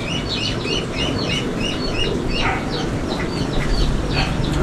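Several ducks quack repeatedly in a loose, overlapping chorus over a steady rumbling background, fairly close.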